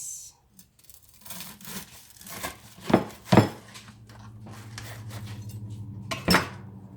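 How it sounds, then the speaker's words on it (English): A knife saws through a ham salad sandwich on a plate, producing several scraping strokes with sharp clinks of blade against dish, then a steadier rasping cut near the end, close and fairly quiet. "Now I'm slicing this sandwich."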